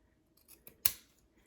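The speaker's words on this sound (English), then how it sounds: "with curved lines, we're going to do a lot of snipping" Fabric scissors snip around curved lines while finishing a cross-stitch piece, a few light close cuts followed by one sharp, louder snip, otherwise quiet.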